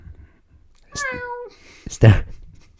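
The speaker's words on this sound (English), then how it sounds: "A noise that sounded somewhat like that. But it was his cat." A single short, clear cat meow close by, followed a moment later by a brief burst of a person's voice.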